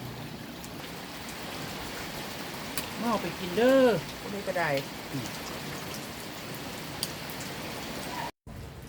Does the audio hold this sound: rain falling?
yes